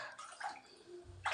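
Floodwater inside a flooded house, a soft sloshing and trickling wash with faint splashes, quiet and close, with no voices.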